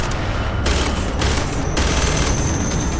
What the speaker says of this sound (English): Gun shooting.